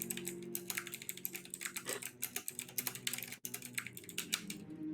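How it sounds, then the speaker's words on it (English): Rapid clattering keystrokes on a computer keyboard, close and steady with quick irregular taps and a brief pause, heard alone during an online tabletop game session. "can you mute when you're typing?"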